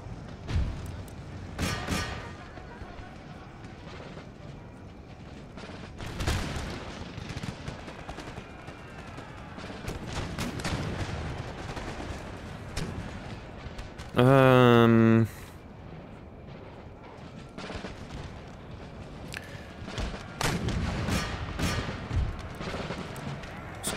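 Musket volleys from infantry in Empire: Total War crack out as scattered, moderately faint shots and thumps across a busy battlefield din, with a brief tonal game sound midway.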